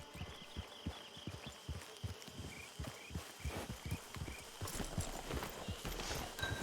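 A horse's hooves clip-clop at a steady walking rhythm in Red Dead Redemption 2, close and distinct, with faint ambient background sounds.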